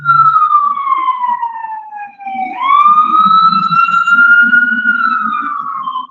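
A wailing siren sweeps slowly down then climbs back up, loud and fairly near, with traffic rumbling faintly underneath.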